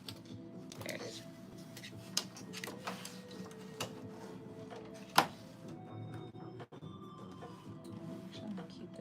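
A sewing machine stitches along a seam of lounge pants in short bursts of rapid ticking, with clicks and handling noises and pauses between runs, close by.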